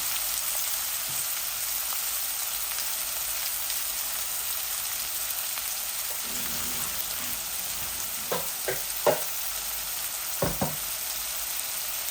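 A medium-sized onion fries in a pan for a Bangladeshi chicken bhuna, giving a steady, fairly quiet sizzle, joined toward the end by a few brief spoon knocks and stirs, with no voices.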